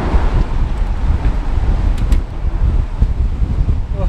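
Strong wind buffets the microphone while mountain biking on a long ride, a steady loud broadband roar with gusty surges throughout and no talk.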